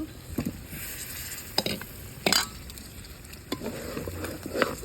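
Meat curry fries in a pot outdoors at night, a continuous sizzle with intermittent stirring scrapes and clatter of the spoon against the pot.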